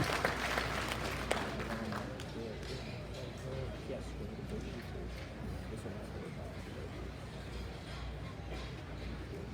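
Applause from a livestock show crowd for young exhibitors in the show ring at a grand drive, broad steady clapping with a rumbling background, loudest at the start and continuing throughout.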